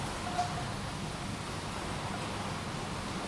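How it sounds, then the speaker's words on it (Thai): Steady, dense hiss of heavy rain, an even wash of noise without pauses or distinct drops, and no voices. "ฝนตกหนักเลยค่ะวันนี้"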